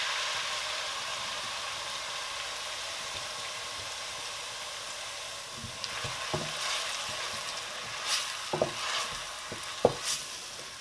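Diced onions, ginger and garlic frying in hot oil in a pan, a soft, even hiss that runs steadily, joined near the end by a few light clicks of a spoon stirring.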